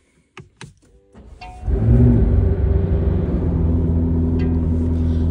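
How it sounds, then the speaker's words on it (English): A supercar's engine starts after a few clicks and a whirring starter, catching into a loud, steady idle rumble that carries on close by with no talking. "So if we turn the car on"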